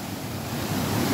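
Sea waves and surf roar in a broad, steady wash on a fishing outing, with wind buffeting the microphone and the noise swelling slightly toward the end; no voices.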